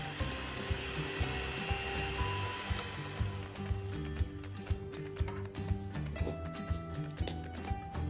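An electric mixer whirs steadily through cake batter, a continuous motor hum joined partway through by soft rhythmic knocks of the beaters against the bowl, close and fairly quiet.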